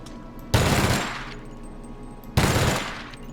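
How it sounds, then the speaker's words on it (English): Two separate bursts of light machine gun fire in The Outer Worlds, each a loud dense rattle about a second long with a fading tail, set apart by a short quiet gap and with no talking. "It's a machine gun, it's a light machine gun"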